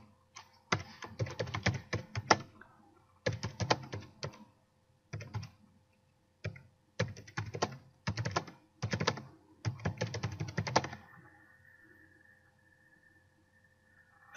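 Typing on a computer keyboard while entering a task description in task management software, with rapid bursts of keystrokes in several clusters separated by short pauses, close and clear, then a quiet hum at the end.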